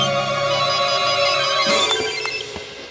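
A phone's melodic electronic ringtone plays loud and close for about three seconds, a continuous tonal ring over a light background with a few faint clicks, no voices.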